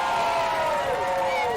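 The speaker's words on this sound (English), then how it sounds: "to the cheer of the crowd" A wrestling crowd at a tables match cheers loudly, a dense, continuous roar of shouts and whoops close around throughout.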